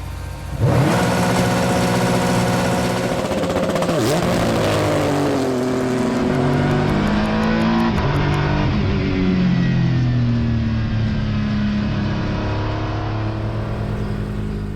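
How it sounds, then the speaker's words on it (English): An Acura NSX race car engine revs hard toward the limiter, then launches and pulls away loudly as the engine climbs through rising tones. "build up the revs all the way to red line"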